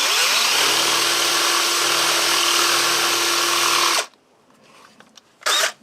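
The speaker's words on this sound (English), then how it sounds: "you gotta drill it way more" Power drill boring a hole through a metal bracket, a loud close whine for about four seconds that stops abruptly, followed by quiet handling noise and one short final burst of drilling.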